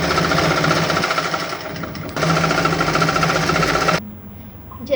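Sewing machine stitching a folded border strip onto a kurti neckline, a loud, close, continuous rapid chatter with a brief slowdown midway before stopping near the end.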